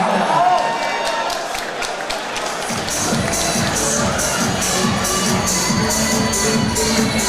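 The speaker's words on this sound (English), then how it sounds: "Give him a massive round of applause right now." Arena crowd at a darts match breaking into a big round of applause and cheering, a loud dense roar of clapping that swells after a few seconds and keeps going, with a murmur of voices underneath.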